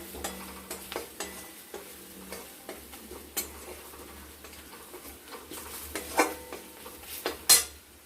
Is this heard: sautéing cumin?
yes